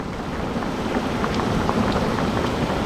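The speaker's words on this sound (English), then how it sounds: "We're getting some little pea gravel size hail." Steady rain falls on surfaces with scattered sharper ticks of pea-sized hailstones mixed in, a constant close patter with no voices.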